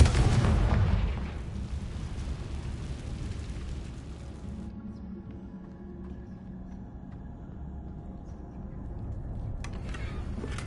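A Confringo spell explosion from a Hogwarts video game: one loud blast right at the start that fades into a low rumbling tail lasting several seconds.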